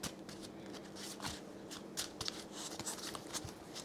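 Tarot cards being shuffled and handled close up, a soft continuous riffling and papery shuffling with a few sharper slaps as cards are drawn and laid down.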